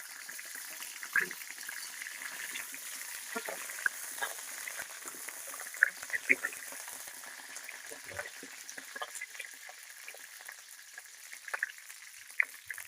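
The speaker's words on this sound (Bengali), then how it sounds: "তেল গরম হয়েছে, আলু দিয়ে দিলাম।" Soft, steady sizzling of potatoes with salt and turmeric in hot oil, faint and continuous, with occasional small pops and light clicks.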